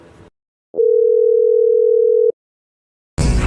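A single long steady phone tone rings out alone for about a second and a half during an unanswered call, with short bursts of other sound before and after.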